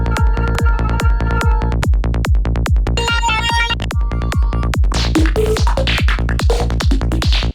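A virtual synthesizer preset in Ableton Live 11, psytrance-leaning, plays a steady pulsing pattern of loud, evenly spaced kick-like hits with bright tonal layers shifting over the top, with no talk.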